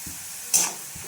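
Sabudana khichdi with potato and chilli sizzles briefly in a pan, one close burst of frying hiss with quiet stirring before and after.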